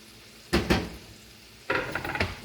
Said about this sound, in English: A lot of chicken. That's all going in my deep frying pan.